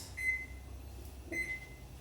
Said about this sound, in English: we're going to set our timer for 15 minutes